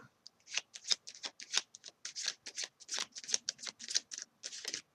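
Tarot cards being shuffled by hand, a rapid run of crisp riffling flutters and slaps repeating throughout, close and clear with no talk.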